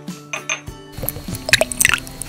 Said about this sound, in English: Now I need water in this little 10 mil flask.